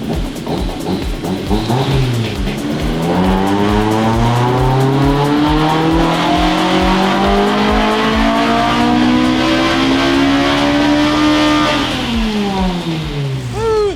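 Tuned Honda Civic engine revving hard on a dyno pull, a loud continuous roar climbing steadily in pitch for about ten seconds before dropping off, with no talk over it.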